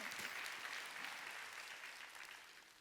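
A church congregation claps together during a Sunday worship service, a dense, steady patter of many hands that is fairly faint and distant and tapers slightly toward the end.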